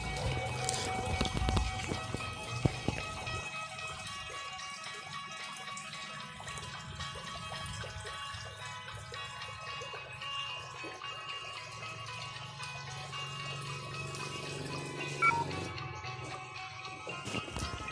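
Small waterfall at a garden cafe, water splashing and flowing in a continuous, moderately loud wash, with music or tonal sounds layered over it and no talk.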